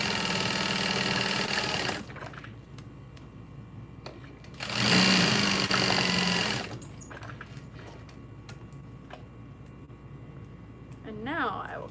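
A sewing machine top stitches the folded, taped edges of a bucket bag, running in two loud bursts of steady motor whir with quieter handling noise between them.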